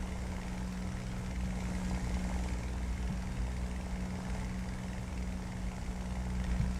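Steady, loud drone of a British propeller aircraft's engine and airscrew during its takeoff run and climb in the War Thunder flight game, a continuous hum with a low tonal throb and no break.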